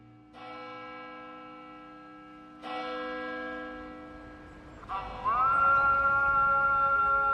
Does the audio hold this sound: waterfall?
no